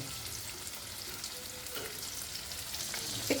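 Fish frying in a pan, a steady dense sizzle and crackle with small pops throughout, close and even in loudness with no talking.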